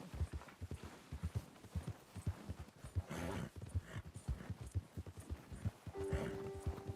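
Horse in Red Dead Redemption 2 trotting with rhythmic clip-clop hoofbeats, close and steady over several seconds, with a few brief noisy bursts in between.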